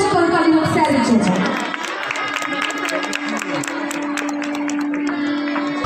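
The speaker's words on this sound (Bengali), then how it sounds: "এটা সকলে মিলে জোরে করতালি হোক স্যারের জন্য।" Applause and cheering from an audience at a village craft fair stage, a dense burst of clapping and crowd noise that settles into a steadier ripple, mixed with chatter.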